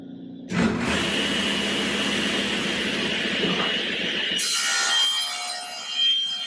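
Table saw cutting wood during furniture making: the blade bites in with a sudden loud whine, holds a steady cutting roar for about four seconds, then the pitch rises as it runs free and winds down.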